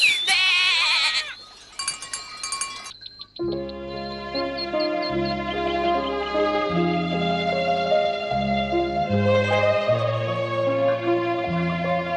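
Goats bleating in an old animated Heidi cartoon, with clanking cowbells, for about the first two seconds, then a cheerful orchestral music cue takes over and carries to the end.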